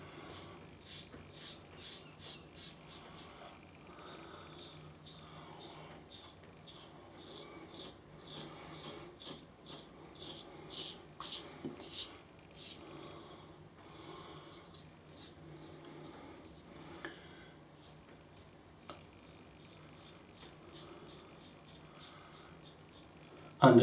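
Wet shave with a Parker Variant adjustable safety razor on setting 3 and a Wilkinson blade, a third pass against the grain: crisp rhythmic scraping strokes in quick bursts, close and fairly quiet, with no talk.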